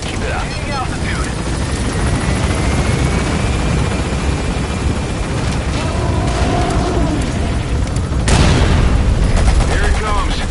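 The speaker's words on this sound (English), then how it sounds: "Use the chopper's minigun." Minigun on a helicopter fires in a Metal Gear Solid V mission while the chopper gains altitude, giving a dense, sustained roar of rotor noise and rapid gunfire throughout, with a louder burst near the end and radio voices mixed in.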